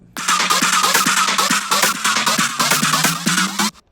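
Hybrid trap drop variation from a remix, loud punchy pulses with bright synth bursts and rising pitch-swept notes repeating rhythmically before cutting off abruptly near the end.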